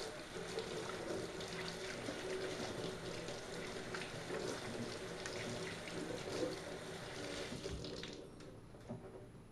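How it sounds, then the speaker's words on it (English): Warm water runs steadily from a tap as hands are rinsed under it after a homemade hand scrub, a continuous close hiss and splash that thins out near the end. "Now rinse off your hands with some warm water."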